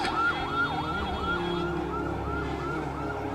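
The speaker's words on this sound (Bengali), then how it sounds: "ডানে কি অ্যাম্বুলেন্স যাচ্ছে" An ambulance siren wails in a regular rising and falling cycle as it passes, moderately distant and steady over low road traffic rumble, with no talk.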